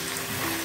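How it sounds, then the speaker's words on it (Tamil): Water pouring into paneer butter masala gravy in a pan, a brief steady gushing splash that stays even and close, with no voices. "கொஞ்சம் போல் தண்ணி சேர்த்துக்கோங்க."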